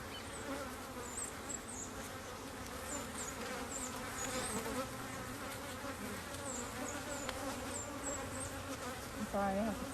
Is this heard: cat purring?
no